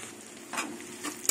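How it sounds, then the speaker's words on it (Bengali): Onions frying in a pan give a soft, steady sizzle, with a few scrapes of stirring and no talk. "পেঁয়াজটা কিছুক্ষণ ভাজা হোক।"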